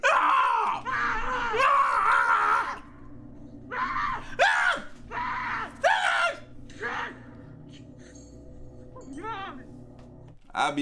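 Someone reacting to a scary ghost clip lets out loud, strained screams and gasps, close to the mic, followed by quieter talking and groans.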